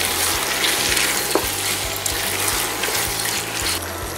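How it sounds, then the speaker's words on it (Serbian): Pork and bacon fry over moderate heat while being stirred continuously, giving a loud, dense, constant sizzle with faint utensil scraping and no talk. "Promešamo I pržimo zajedno sve 10 minuta na umerenoj temperaturi"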